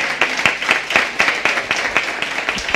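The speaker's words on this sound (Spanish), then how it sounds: "Un aplauso. Un aplauso." Clapping from a small audience at a talk on prison and hardship, with distinct individual claps in an uneven rhythm, fairly close and moderately loud, briefly sustained.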